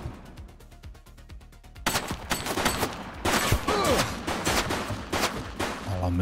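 Rapid bursts of gunfire from a shooting suspect in the police game The Precinct, starting with sharp clicks and then erupting into loud, dense volleys of shots with echoing cracks that continue to the end.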